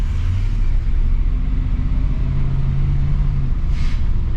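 A 1959 Imperial Crown driving through Montreal evening rush-hour traffic, its engine a steady, loud low rumble as it pulls ahead, heard close from inside the car with continuous road noise.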